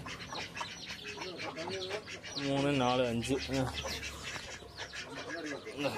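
High, thin peeps from a small group of chicken chicks come in quick bursts close by, mixed with a person talking over them.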